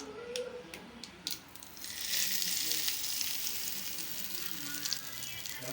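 Hot tempering poured into chayote chutney bursts into a steady, close sizzle that crackles on for several seconds after a few clinks and stirs.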